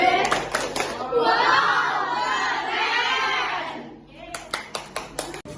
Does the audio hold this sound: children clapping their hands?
yes